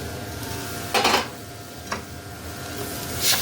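A spoon scraping and knocking in a pan as grated coconut is stirred into cooked jaggery, a few louder scraping bursts over a steady background hiss, close by, no talking.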